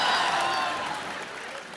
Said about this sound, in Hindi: जोरदार तालियां एक बार काबिल की पूरी टीम के लिए।